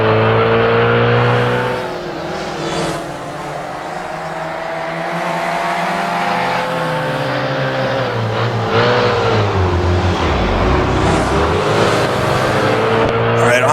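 A race car engine in the Assetto Corsa sim racing game, set on a post-war German street circuit, drones loudly and steadily, rising and falling in pitch through gear changes and easing for a slow corner, with faint talk underneath.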